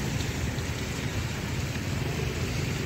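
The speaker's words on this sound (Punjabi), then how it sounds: "ਬਾਰਿਸ਼ ਆ, ਬੱਚੇ ਬਾਰਿਸ਼ ਦਾ ਆਨੰਦ ਲੈ ਰਹੇ ਆ" Heavy rain falling steadily on an open Dussehra ground in Hoshiarpur, a dense, continuous hiss and patter that stays loud and even throughout with no voices.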